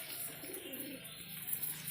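A female pigeon from a 65-year-old bloodline gives a low, quiet cooing murmur, faint and close, with no one speaking over it.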